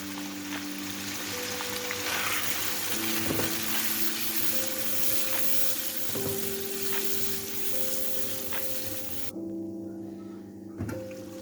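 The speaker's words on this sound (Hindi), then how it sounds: "इसको हम अब चिकन को प्रॉपर कुक करेंगे जब तक चिकन हमारी अच्छे से गल जाए" Chicken cooks with cream in a handi pan, giving a steady sizzle and bubbling with a faint background hum, broken by occasional soft stirring knocks.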